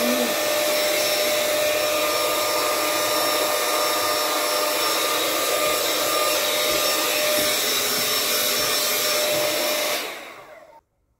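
A Nora Styler 5-in-1 hot air styler blows steadily and loudly with a constant whirring hiss, then switches off and winds down near the end.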